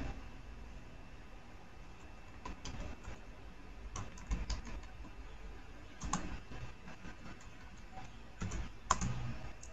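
Command typed on a computer keyboard for copying a folder from a Linux machine to Windows over SSH, heard as soft irregular clicking keystrokes in small bursts over a faint steady background hiss.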